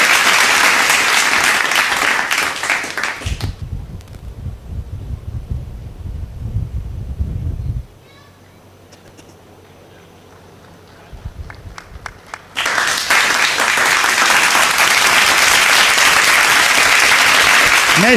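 An audience at a ceremony honouring meritorious students claps loudly in two long bursts, separated by a quieter stretch with low rumbling and a near-silent pause.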